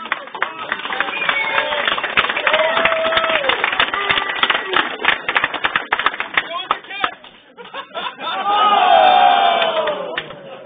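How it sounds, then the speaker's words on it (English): An audience at a DEF CON podcast meetup claps in a dense burst with scattered shouts and cheers, swelling and fading over several seconds as voices rise above it near the end. "Audience, big round of applause."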